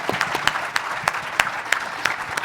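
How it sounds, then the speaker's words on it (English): Audience applause for a panel at a higher-education democracy event, a steady wash of many hands clapping with a few sharper claps standing out, moderately loud and continuous for the whole stretch. "Let's give our panel a round of applause"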